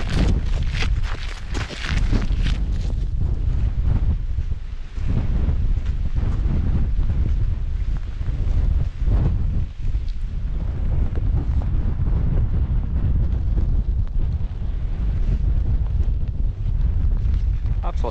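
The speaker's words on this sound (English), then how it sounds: "it's pretty windy and the rain's getting heavier now." Strong, constant wind buffets the microphone high on the Skye Cuillin ridge as rain gets heavier, a loud unbroken roar filling the whole stretch.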